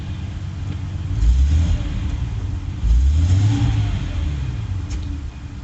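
A 1994 Jaguar XJ12 V12 engine idles steadily and is blipped twice, each rev swelling to a smooth rising hum and settling back to a low, even idle, loud and close with no talk.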